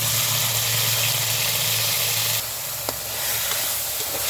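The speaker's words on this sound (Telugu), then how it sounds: "ఇది బాగా ఫ్రై చేసుకోవాలి పాలకూర" Spinach sizzles and fries in a pan of oil with dried red chillies and curry leaves for palakura ullikaram, a steady broadband hiss that eases slightly partway, with a few faint clicks from stirring.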